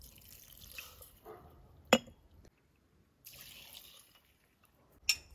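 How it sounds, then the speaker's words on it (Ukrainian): Cold salted brine is poured over peeled tomatoes set to ferment, giving two soft bursts of sloshing liquid with a couple of sharp drips or clinks and quiet gaps between them. "І заливаю холодною водою"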